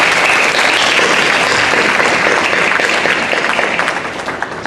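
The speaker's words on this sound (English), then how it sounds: "Let's give everyone another round of applause." A large audience at an NAACP Mother of the Year event bursts into loud, dense applause that holds steady and then begins to thin and fade toward the end.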